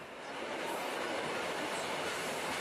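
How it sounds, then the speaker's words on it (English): A train coming out of a tunnel rumbles steadily past, a dense continuous roar of wheels and carriages that swells at the start and holds loud throughout. "as the train is coming out of the tunnel."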